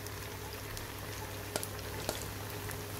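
Battered cauliflower florets deep-fry in oil on medium heat for gobhi manchurian, making a faint, even, continuous bubbling hiss with a couple of small pops.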